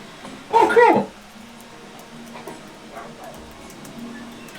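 A dog barks in a short burst near the start, fairly loud, then the scene settles into quieter background noise with faint voices.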